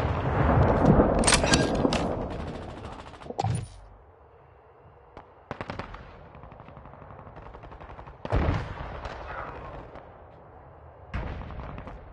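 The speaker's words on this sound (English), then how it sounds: "I'm taking fire." Gunfire in Call of Duty: Modern Warfare multiplayer comes as loud bursts of automatic shots and single cracks, separated by quieter gaps, with several sharp volleys close by.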